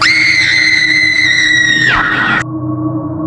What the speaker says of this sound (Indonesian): Suara rintihan dan jeritan bersahut-sahutan.